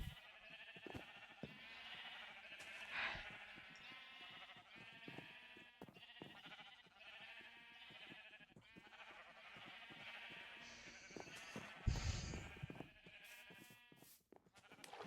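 Sheep bleat repeatedly in the video game Highworlds, overlapping wavering calls layered over a busy game soundscape with a few low thumps.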